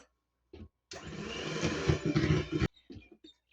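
An electric mixer whips heavy cream for a cream filling, a steady loud whirring that runs for nearly two seconds between a few short clicks and knocks.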